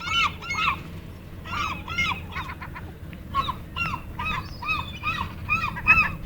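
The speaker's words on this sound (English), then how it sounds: "What are those seagulls doing, Paulina?" Gulls calling repeatedly, a chorus of harsh, honking cries at moderate distance with steady low background noise and no talking.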